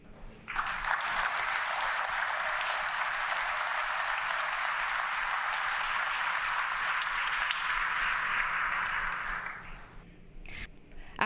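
Sustained applause from NATO leaders at a summit in Lithuania greeting Zelensky, steady dense clapping for about nine seconds before fading out, followed by brief faint sounds.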